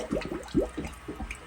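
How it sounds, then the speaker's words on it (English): Water is scooped from a fish tank with an empty gallon jug, making several soft sloshing, gurgling dips in a quick irregular rhythm, close by and moderately quiet. "scoop out as much of this water as I can without,"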